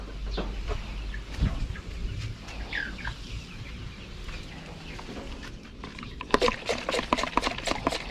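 Native chickens cluck around a farm cage, with scattered nearby clucks and chirps over steady outdoor background noise, growing busier and more frequent toward the end.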